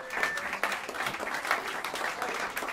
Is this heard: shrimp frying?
no